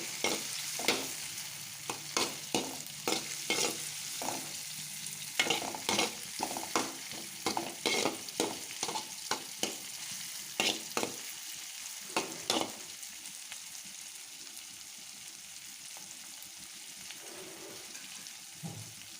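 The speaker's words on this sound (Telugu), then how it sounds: "ఇంగ్రీడియంట్స్ ఆయిల్ అన్నీ వేసి వేచాను ఇలా డీప్ ఫ్రై కావాలి మనకి" Upma ingredients, onions, tomato, curry leaves, coriander and chana dal, frying in oil in a pan, with steady sizzling and repeated sharp scraping stirs for most of the stretch, loud and close, then quieter sizzling at the end.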